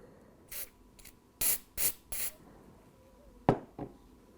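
Glue activator is sprayed onto a chain fixed to a model railway freight wagon, heard as several short, sharp hissing spray bursts in an uneven rhythm, close and fairly quiet, with no talk.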